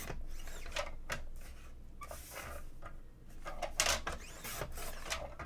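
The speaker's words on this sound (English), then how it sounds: "We'll trim everything off at the same time." A paper trimmer cuts through scrapbook paper with several quick slicing strokes and scraping swishes, close and clear, set against a soft background hum.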